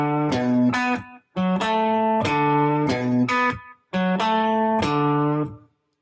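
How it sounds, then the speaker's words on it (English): A single-note blues shuffle riff is played on guitar, a bouncing phrase of clean picked notes with octave stabs, repeated three times with short pauses between, clear and up close with no talking. "came up with a little bit of a single note blues riff"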